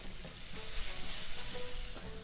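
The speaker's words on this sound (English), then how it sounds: "Carrot we normally eat fresh, raw, so you don't have to stir fry for too long." Carrot being stir-fried in a pan, with a steady hiss and sizzle and soft scraping stir strokes close by, and no talking.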